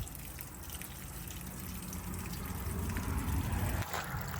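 Continuous gushing water from a sprinkler running down the side of a bus under renovation, a steady close rushing wash with a brief dip near the end.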